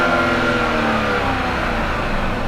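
A 4.6-liter naturally aspirated V8 in a luxury car revs with a steady mid-pitched engine drone, moderately loud and close, with no voices.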